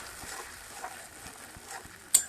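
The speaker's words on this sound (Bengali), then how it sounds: "এবার এটাকে ভালো করে নাড়াচাড়া করে মিক্স করে নেব।" Spice paste sizzling softly in a pan for doi katla fish while a spoon stirs it, with scraping taps and a sharper knock at the end.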